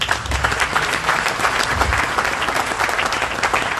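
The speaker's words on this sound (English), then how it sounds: "Please give a second round of applause as he leaves the stage" Steady applause from a business event audience, dense clapping that holds at an even level throughout with no speech.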